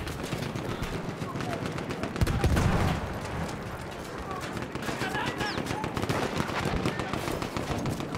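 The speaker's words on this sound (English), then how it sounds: "there's heavy machine guns being used" Heavy machine gun fire in Battlefield 1 Operations mode, a dense continuous rattle of automatic bursts with scattered explosions and battlefield noise, loud and unbroken throughout.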